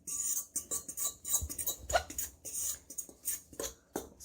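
Yeast and nutmeg being stirred into a bread dough mixture in a bowl, a quiet run of close scraping and soft clinking strokes in a steady, uneven rhythm, with no talking.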